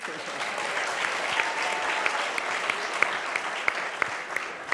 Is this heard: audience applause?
yes